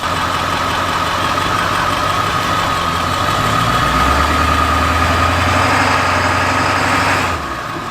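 A 7.3 diesel van engine idles steadily nearby, a continuous low rumble with a mid-frequency drone that holds even throughout, then drops slightly at the very end.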